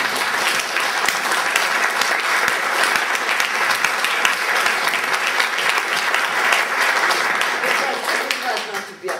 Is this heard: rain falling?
no